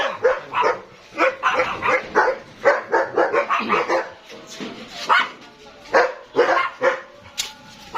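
A German spitz puppy barks close by in rapid, high yappy bursts, with short pauses between runs of barks and a few whiny yips.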